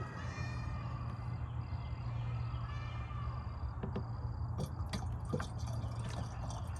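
Thin liquid bee feed pours steadily from a gallon jug outdoors at an apiary, a continuous close wash of liquid running throughout, with a few bird calls in the background.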